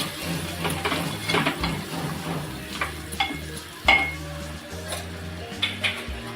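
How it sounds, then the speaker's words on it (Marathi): Coriander and cumin powder are stirred into a pan for a clam fry. A spoon scrapes and taps rhythmically against the metal over a steady, close sizzle. "मसाले पहिले मिक्स करून घेऊया"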